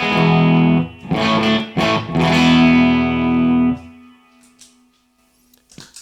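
Electric guitar notes ring out through a reverb pedal with a wash of reverb, a few strummed attacks then a sustained tone that fades into a lingering tail.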